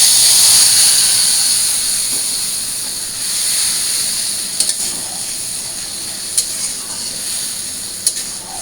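A spice paste of garlic, turmeric, green and dried chilli, ginger and coriander powder sizzles loudly in hot oil in a kadai, a steady bright hiss that eases slightly, broken by a few faint clicks.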